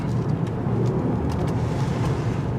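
A 2019 GMC Acadia SLT SUV in front-wheel drive rolls through a tight turning circle, a low steady engine and road rumble at moderate distance with faint tire noise, no speech.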